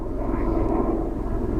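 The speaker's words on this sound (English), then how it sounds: "sorry about the helicopter going over" A steady, droning rotor and engine rumble from a helicopter passing overhead in open countryside near Somerton, Somerset, low and continuous throughout with no voices.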